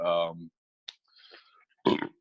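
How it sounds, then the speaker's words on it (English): A man gives a short throaty burp after drinking coffee, followed by a brief pause, faint clicks and soft speech, then another short loud voiced sound close to the mic. "I don't know why it makes me burp, but it's all good"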